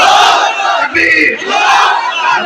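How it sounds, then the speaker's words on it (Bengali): A large crowd at a Bangla waz gathering shouts the takbir chant in unison, loud and close, two swelling roars of many voices with a brief dip between them. "তোলেন তাকবীর, তাকবীর।"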